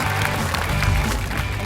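An audience applauds at a comedy game show, brief steady clapping from a studio crowd, fairly loud and continuous with a voice faintly mixed in.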